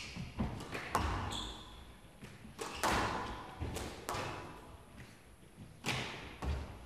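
Squash ball struck repeatedly during a women's world championship rally, sharp thuds and cracks off racket and walls in an irregular rhythm, with squeaks and court noise between hits.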